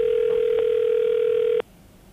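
An outgoing landline call rings back as a single steady electronic tone held for about a second and a half, then cuts off abruptly into quiet.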